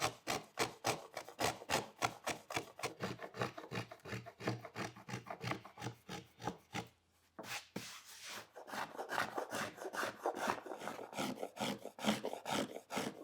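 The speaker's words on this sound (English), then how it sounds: "I'll use the finger planes that I made in my last video" Handmade finger planes shave the wood of a guitar body in quick, rhythmic rasping strokes, close and moderately quiet, with a brief pause midway before the steady strokes resume.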